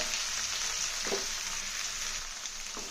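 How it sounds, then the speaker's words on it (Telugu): Chopped onions, with curry leaves and green chillies, fry in hot oil for a Telugu onion, tomato and raw mango curry, giving a steady close sizzle with a faint stirring scrape. "ఇవన్నీ దీంట్లోకి వేసాను వేసి ఉల్లిపాయలు వేగటానికి కొంచెం వేస్తాను"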